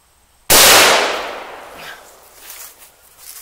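A single loud SKS rifle shot, fired during a Microlon barrel treatment, cracks sharply up close and then rolls off in a fading outdoor echo.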